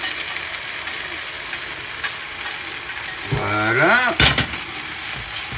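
Veal stock poured into a hot pan bursts into a loud hiss and bubbling over a steady background sizzle, swelling for about a second before settling, with a brief spoken word at the end.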